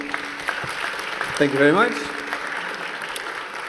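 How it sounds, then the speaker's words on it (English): Audience applause closes a panel discussion at an academic conference, a continuous moderate clapping under a voice speaking briefly in the middle. "Let's give them a big another round of applause."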